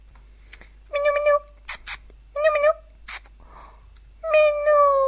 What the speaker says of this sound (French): Il est là, le minou